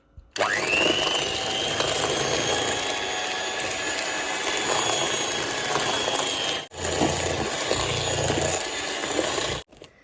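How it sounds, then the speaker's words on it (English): An electric hand beater whirs steadily in a bowl of caster sugar for a vegan Sri Lankan Christmas cake, with a continuous close motor drone and scraping that break briefly twice, no voices over it. "Mix it well and start the beater."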